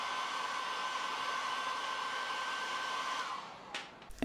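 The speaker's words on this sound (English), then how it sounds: "using a hairdryer, heat the rear case directly over the battery." A hairdryer blows steadily close by, heating the rear case of an iPhone XS Max over the battery to soften its adhesive, then cuts off near the end with a few clicks of handling.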